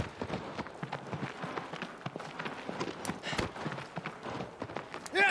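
A horse gallops in the video game Shadow of the Colossus, a rapid, rhythmic clip-clop of hooves throughout, fairly close and moderately loud, with brief noises near the end.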